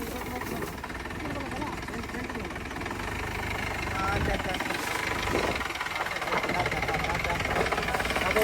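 Jeep engine running steadily while the vehicle reverses along a blocked, rocky trail, a continuous low rumble with knocking undertones that swells slightly toward the end, with a voice talking over it.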